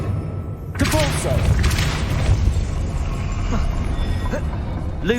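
A Depulso force spell cast in the Hogwarts Legacy video game, a sudden booming burst that opens the clip and leaves a dense rumbling wash with whooshing sweeps behind it, loud and close.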